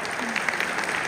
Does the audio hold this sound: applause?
yes